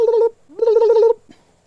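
A chicken in a backyard coop gives two close, tonal clucking calls, a short one and then a longer warbling one, followed by a soft trailing note.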